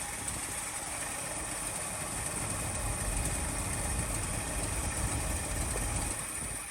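A 1974 Ford F350 dually ramp truck engine idles steadily and fairly quietly, a continuous low rumble with even vibration and no voices over it.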